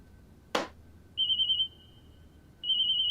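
A telephone rings in short electronic bursts, two tones separated by a pause, following a brief thump in a quiet room.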